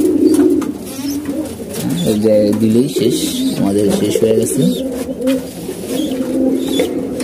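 Pigeons coo in a loft in low, throaty bursts repeated several times close by, while someone talks over them.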